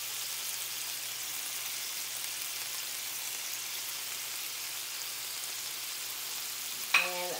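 Onion frying in a pan for birria tacos gives a steady, soft, even sizzle throughout, with a brief clink near the end.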